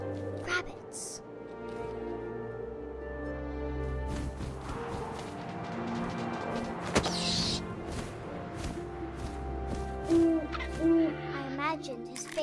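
An owl hoots in the video game What Remains of Edith Finch, with a couple of short hoots late on, set amid wind, ambient game sounds and a narrating voice.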